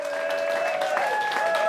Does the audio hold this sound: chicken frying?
no